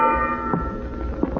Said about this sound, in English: I've been ringing this bell steady, sir.